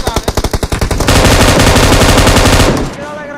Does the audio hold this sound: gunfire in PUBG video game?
yes